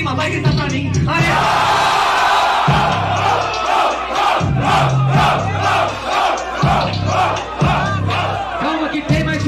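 A rap battle audience shouts and cheers loudly in a dense, continuous crowd roar with rhythmic surges of yelling, while a steady beat thumps underneath.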